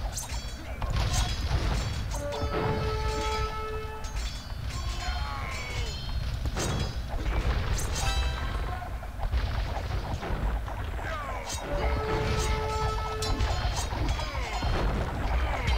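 Repeated booming cannon shots from turtle ships and crashing impacts over busy video game battle noise, with someone talking throughout.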